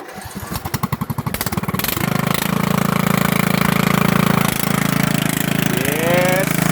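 Riding lawn mower engine starting, with rapid cranking pulses that catch into a loud, steady close-up running drone. A voice calls out briefly near the end.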